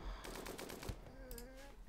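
Rapid bursts of light machine gun fire in the game RimWorld, crackling through the whole short stretch alongside other game effects, with no talk over it.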